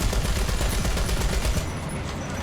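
Rapid tank gun and machine-gun fire in War Thunder, a dense, loud burst of overlapping shots with heavy low rumble that thins out just before the end.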